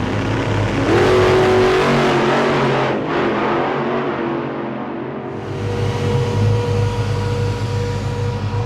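A 1955 hot rod car drives along on a road trip from California to Colorado, its engine droning loud and steady up close, rising in revs, easing off briefly, then surging again with no talking.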